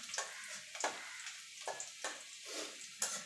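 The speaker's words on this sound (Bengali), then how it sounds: "এবার রসুনটা হালকা করে একটুখানি ভেজে নেব।" Garlic sizzles in hot oil in a pan as it is lightly fried for a Bengali red amaranth (lal shak) stir-fry, with repeated bursts of crackling as it is stirred and no voices.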